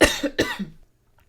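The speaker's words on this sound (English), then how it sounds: "Coughing." Two quick, close coughs in succession, the second slightly softer, followed by quiet.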